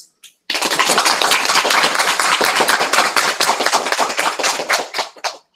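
Rapid synthetic clapping sound effect from online clapping stamps during a web lecture, dense and continuous for about five seconds before stopping abruptly.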